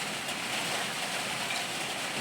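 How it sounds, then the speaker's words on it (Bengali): Steady rain during a storm hisses as an even, continuous wash of noise, fairly faint and without breaks. "কি বৃষ্টি হচ্ছে, কাল রাত থেকে এক টানা একভাবে বৃষ্টি হচ্ছে।"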